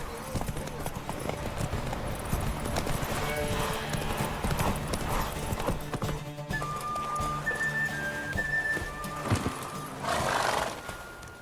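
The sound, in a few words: horse galloping hooves in video game The Witcher 3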